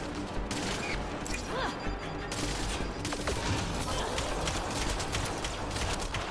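Continuous gunfire from a Mass Effect: Andromeda battle on Meridian, dense rapid shots and impacts layered with game combat noise, loud and steady throughout with a little voice in the mix.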